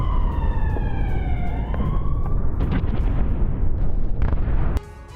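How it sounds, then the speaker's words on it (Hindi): A Russian mortar ammunition depot explodes under attack, a loud rumbling roar with crackling blasts and overlapping wailing sirens at the start, the din cutting off abruptly near the end. "धमाके से ददक उठा है मोर्टार गोदाम।"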